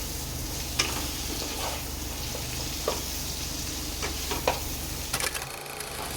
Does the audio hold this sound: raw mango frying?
yes